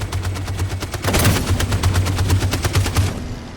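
Rapid automatic gunfire from the video game Detroit: Become Human, a dense sustained burst of shots rattling over a low steady hum, louder and fuller partway through, then cutting off near the end.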